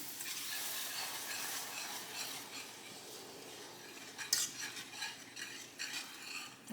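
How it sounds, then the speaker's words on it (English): A spoon stirring giblet gravy with milk in a pan on the stove: a soft, steady sizzle with scraping swirls of utensil against the pan and a few light clinks, close and quiet, with no talking. "And stirring it."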